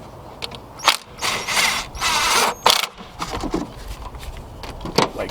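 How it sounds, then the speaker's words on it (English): A ratchet tightening a 10mm screw on a Toyota/Lexus 3MZ-FE V6 engine during a thermostat replacement, several bursts of rapid close clicking with short pauses between strokes, no voices. "then tighten this 10mm screw up right here"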